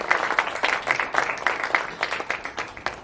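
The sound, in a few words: audience applause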